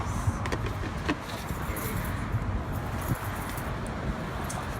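Keys jingle faintly in a few light metallic clinks over a steady indoor background hum.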